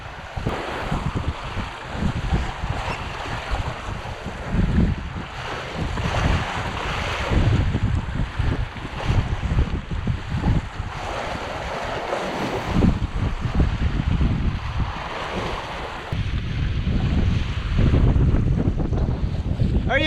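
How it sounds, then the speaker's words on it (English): Strong wind roars against the microphone while waves slap and wash around a small Sunfish sailboat, loud and continuous with gusty swells and no talking. "Winds have picked up, waves have picked up."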